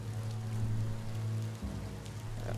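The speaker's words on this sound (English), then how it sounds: "Hope this rain is warm." Steady rain pours down in the video game Biomutant, a dense continuous hiss of drops on surfaces with a low rumbling bed underneath, close and unbroken throughout.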